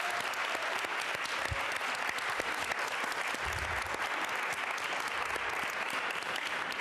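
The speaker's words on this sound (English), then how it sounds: "Another round of applause for all of the young people that showed up tonight." At a book signing and benefit event, the audience claps for young attendees, a sustained, even round of many hands that holds steady and a little distant throughout.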